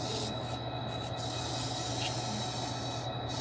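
A sustained, loud hiss from an aerosol spray can blasts steadily close by, with brief breaks at the start and near the end, and no talking.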